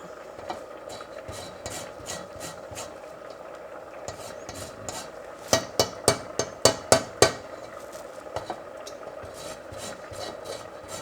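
Lime zest is rasped off on a grater over a pot of coconut ginger rice, a run of sharp, close scraping strokes in a quick rhythm, with softer, scattered rubbing and scraping around it and no talking.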